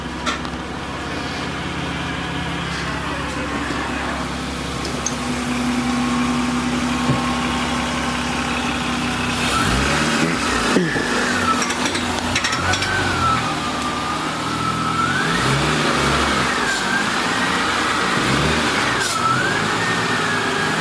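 The JRV vehicle's engine idles with a steady low rumble, then revs up in several rising and falling swells, close and fairly loud, with no talking.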